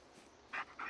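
Dog panting in the horror video game Blair Witch: two short, close breathy bursts a beat apart, over a faint steady background hiss.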